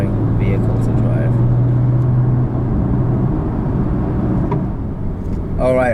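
Porsche 911 Turbo 997TT engine droning steadily while driving on a spring road, a constant loud interior rumble with a low steady tone early on, continuous for the whole stretch.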